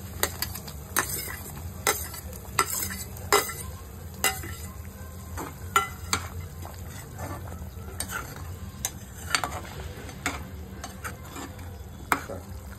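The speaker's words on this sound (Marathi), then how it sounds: "यात मी आता हे तळून काढलेले सुरण आहे ते मी आता सोडत आहे" Fried elephant foot yam pieces being stirred into a simmering masala curry, with repeated sharp spoon-and-pan clinks over a steady low bubbling sizzle, close and fairly loud.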